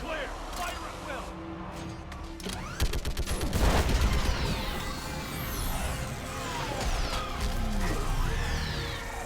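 Heavy gunfire rakes a Reaper in Mass Effect 3, with dense overlapping shots, crashes and explosive rumbles forming a loud, continuous battle din, and voices are heard through it.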